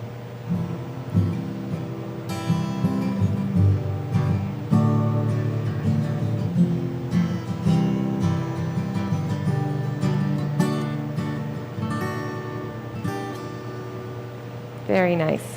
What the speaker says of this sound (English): guitar strings that are in tune